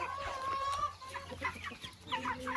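Hens and young chicks on a poultry farm clucking and cheeping, with repeated short calls overlapping close by against steady background noise, no talk.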